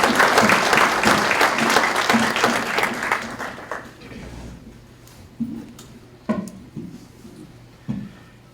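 Audience applause at a Veterans Day breakfast for the women who served the meal, a dense hall-wide clapping that fades after about four seconds, followed by a few scattered claps and light room noise.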